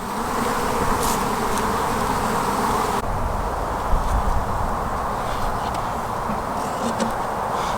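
Honey bees buzz at an open beehive, a dense, continuous close-up drone of many insects that stays steady throughout, with a few faint knocks and rustles partway through.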